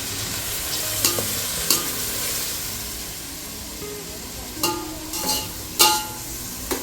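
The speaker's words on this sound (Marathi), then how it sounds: "तर आता मस्त एकदम परतून घेते." Onion, tomato and garlic sautéing in hot oil in a pot, a steady close sizzle with occasional scraping stirs and clinks of a spoon against the metal.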